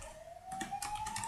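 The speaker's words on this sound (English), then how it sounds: "There's a police siren." A police siren rising steadily in pitch, heard faintly in the background with a continuous wailing tone, alongside intermittent clicks and taps.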